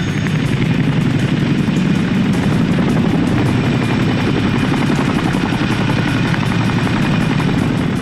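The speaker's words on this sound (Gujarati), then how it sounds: "15 ચિનુક હેલિકોપ્ટરથી સેના બતાવશે દમ" A Chinook military helicopter flying, with a loud, continuous rotor and engine roar that stays steady and close for the whole stretch.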